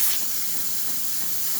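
The steam wand of a freshly serviced Saeco Italia espresso machine gives off a steady, loud, close hiss that runs continuously without a break, with a brief sharper burst at the start.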